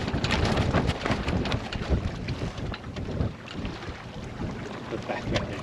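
A sailboat under way in strong wind, with steady wind roar buffeting the microphone, water rushing along the hull, and occasional creaks and flaps; no voices.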